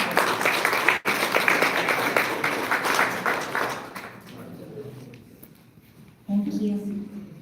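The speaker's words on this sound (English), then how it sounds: "Let's give her a big round of applause." Audience applause and clapping for a speaker at a live event, loud for the first few seconds and then fading into quieter room noise, with a voice starting to speak near the end.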